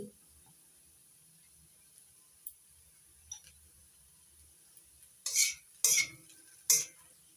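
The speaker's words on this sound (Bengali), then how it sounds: "সব কিছু ভালো করে মিশিয়ে নিচ্ছি" A spoon stirs flattened-rice pulao ingredients in a pan, with a few faint taps and scrapes in a quiet kitchen, then three loud scraping strokes close together near the end.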